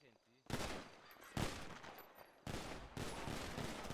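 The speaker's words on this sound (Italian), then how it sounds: "Stanno sparando, ragazzi, stanno sparando" Sustained bursts of rapid video game gunfire, loud and dense, in several long volleys separated by brief breaks.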